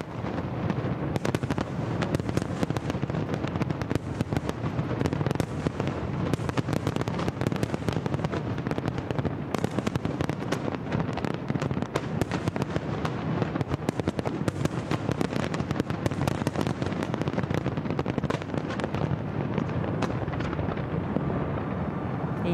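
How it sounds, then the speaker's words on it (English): New Year fireworks burst over the Chao Phraya River in Bangkok, a dense, continuous crackle of rapid pops and booms at a distance, with no pauses. "Let's have a little listen in to the firework display if we can."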